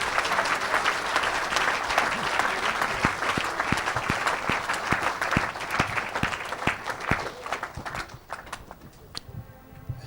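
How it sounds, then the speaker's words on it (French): A church congregation at a French-speaking Pentecostal service applauds the Lord with loud, rhythmic, steady clapping from a crowd, beats pulsing evenly before thinning out near the end. "Acclamez le Seigneur."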